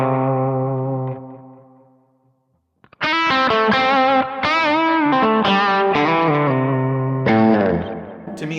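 Electric guitar played through a Kemper profiler with its graphic EQ engaged, heavily effected with distortion and reverb: a sustained chord rings out and fades to silence, then a burst of loud, rhythmic chords and picked notes follows.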